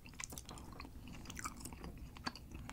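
Close, quiet chewing of tandoori chicken pizza topped with tomato sauce and plenty of onion, with soft crunchy bites and wet mastication repeating steadily.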